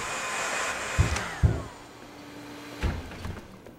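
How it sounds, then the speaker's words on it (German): Vacuum cleaner running in the restaurant game Joe's Diner, a steady whine with a few sharp clunks and thumps over it, fairly close and with no talking. "Staubsauger."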